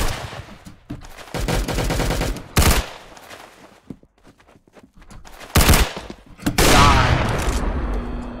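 Automatic gunfire in Roblox Arsenal rattles in several loud bursts separated by quieter gaps, close and sharp, with a final long burst trailing off.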